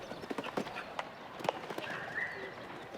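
A horse gallops around a show jumping arena at a CSI3* 1.50m grand prix, with quick rhythmic hoofbeats thudding on the footing and birds chirping faintly in the background.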